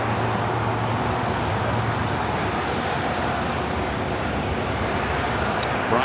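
Jet airliner landing on runway 25 left at Los Angeles International Airport, a loud steady broadband engine roar filling the whole stretch without letup.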